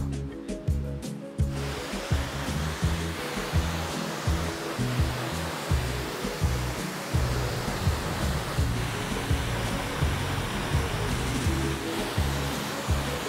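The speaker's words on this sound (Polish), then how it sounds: "Czas na spłukanie." A dirty motorcycle being rinsed down with water after washing, a steady loud broadband spray and splash running continuously with no pauses.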